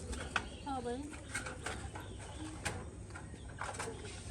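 Pigeons coo softly in low, rolling calls, with faint background noise and scattered small clicks.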